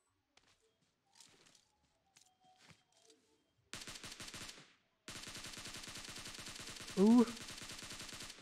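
Gunfire in PUBG Mobile: faint distant single shots, then a loud rapid automatic burst, a pause, and a longer sustained stream of close automatic fire, with a brief exclamation over it.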